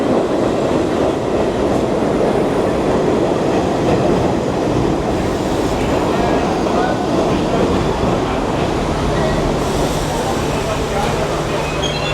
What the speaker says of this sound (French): on va prendre le métro pour, du coup, décaler à Central Park